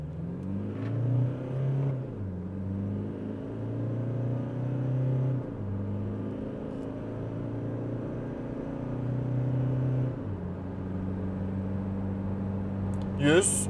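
A 2024 Toyota Hilux pickup in sport mode and four-wheel drive accelerates 0-100, engine revving hard in stepped bursts, pitch climbing and dropping with each gear change, a steady loud drone from inside the vehicle.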